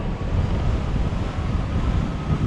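Steady, loud wind roar buffeting the microphone while hang gliding in a national competition task, a dense low rumble with no talk throughout.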